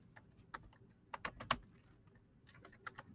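Keys clatter on a computer keyboard in short irregular bursts of typing, close and fairly quiet, with pauses between clusters and no talking.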